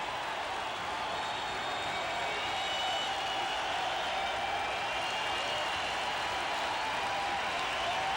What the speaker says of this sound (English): it's not a sellout crowd by any means, but they're making sellout noises